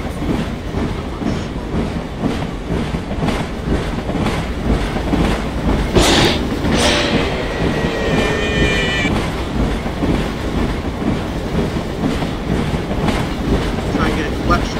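A video-game train clatters along with rhythmic clickety-clack wheel beats and a sharp screech partway through as it ploughs into animatronics, loud and continuous.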